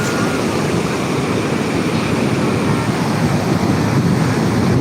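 Big high-tide sea waves wash and roar in a continuous broadband rush close to the shore, loud and steady with wind buffeting the microphone throughout.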